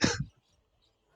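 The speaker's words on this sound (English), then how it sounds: "Well planned cough." A single short cough or throat-clearing burst, close and fairly loud, followed by near silence.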